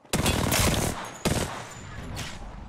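Gunfire in the battle royale game Apex Legends: two dense bursts of rapid automatic shots, loud and close, followed by a lingering rumbling tail.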